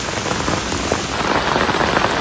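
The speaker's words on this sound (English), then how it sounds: "heavy rains battered western South Korea, flooding roads, disrupting public transportation" Heavy rain pouring down during floods in Seoul, South Korea, a dense, continuous hiss of drops drumming on surfaces, loud and close, with no voices.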